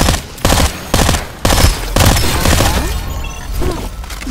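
Gunfire in the video game Farlight 84, loud rapid bursts of automatic shots in a quick rhythm with brief gaps, close up, followed by a longer sustained volley.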